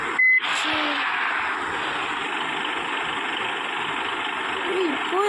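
A bus engine idles in a bus simulator video game, a steady low drone with a broad hum running unbroken through the clip, while a voice speaks over it.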